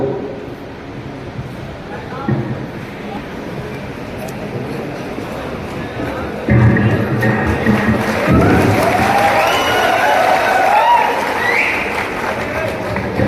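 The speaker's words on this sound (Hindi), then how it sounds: "बहुत जोर की तालियों की गड़गड़ाहट में" Loud applause from an audience at a public gathering in Malegaon, a steady clatter of clapping that swells and grows denser partway through, with voices mixed in.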